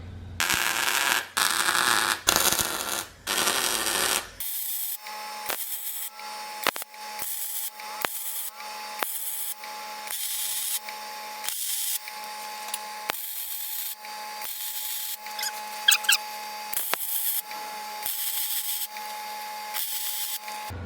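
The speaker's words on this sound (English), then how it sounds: "then we're going to tack each corner, and then we're going to stitch weld it just like the diff brace" MIG stitch welding a traction arm brace onto a Nissan 240SX S13 subframe: a first long crackling burst, then a series of short welds broken by brief pauses, with a steady electrical hum under them.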